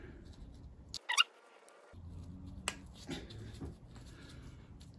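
An electrical connector on a Jeep Patriot engine wiring loom clicks into place during a sump replacement: a single sharp snap about a second in, close and distinct against quiet workshop background.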